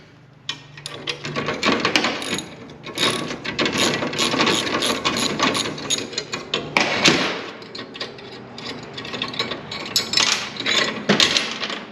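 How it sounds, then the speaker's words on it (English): A ratchet wrench loosens the bolts on an ATV wheel, sending out close bursts of fast metallic clicking with short pauses and a few knocks between runs. "I'm going to pull these bolts off of here, taking this wheel off."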